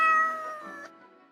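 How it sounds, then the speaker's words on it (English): A cat in the video game Death and Taxes lets out a single drawn-out, tonal meow that fades into quiet, heard alone and close. "As you enter, the cat paces around on the table as if annoyed and irritated."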